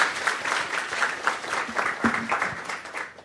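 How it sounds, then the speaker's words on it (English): Seminar audience applauding a speaker, a dense steady wash of many hands clapping together for a few seconds, fairly close and even, with no voices. "Let's give an applause to the speaker."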